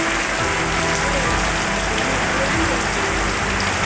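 Steady rain falls without a break, a dense even hiss of drops on surfaces that holds at the same loudness from start to finish, with a faint low rumble underneath.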